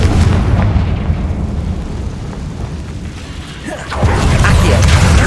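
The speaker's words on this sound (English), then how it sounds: "Confringo!" Confringo explosive spell in the game Hogwarts Legacy, a loud booming blast that rumbles and fades, followed by a second heavy explosion near the end.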